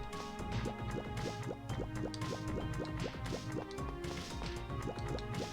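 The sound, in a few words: water footsteps sound effect in video game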